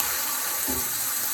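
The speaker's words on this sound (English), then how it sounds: "I'm going to put just a little bit of water in there" A short splash of water pours into a pan of seasoned meat, a brief gush over a steady background hiss with no talking.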